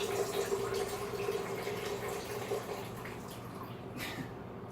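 A steady pour of Turkish buttered coffee into a cup, a continuous watery trickle with a faint tonal ring, close and fairly quiet, fading slightly toward the end.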